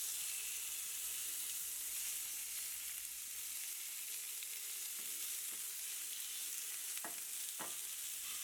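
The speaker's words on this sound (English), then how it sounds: "time to cook the salmon bites" Salmon bites fry in olive oil in a pan with a steady, close sizzle throughout, broken by a few sharp crackles and pops near the end; no voices.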